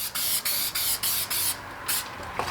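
Six short hissing bursts from a spray can applying adhesive for a car trunk liner, each lasting roughly a quarter second, coming in a steady rhythm close by with brief pauses between them.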